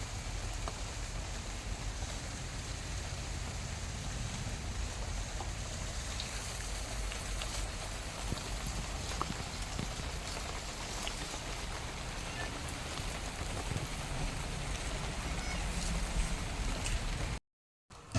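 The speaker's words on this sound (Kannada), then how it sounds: "ನಮ್ಮ ಹಿಂದ್ಗಡೆಯ ತೋಟಕ್ಕೆ ನೋಡಿ ಸ್ಪ್ರಿಂಕ್ಲರ್ ಹಾಕಿದ್ದು" A garden sprinkler sprays water across a backyard plot in a continuous, even hiss of fine droplets. It stays faint and steady throughout, then cuts off abruptly near the end.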